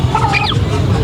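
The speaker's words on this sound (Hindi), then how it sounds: "ये लड़ाकू मुर्गा है?" A single loud crow from a Java fighting rooster at a bird market, close by, with a rising then falling call lasting about a second.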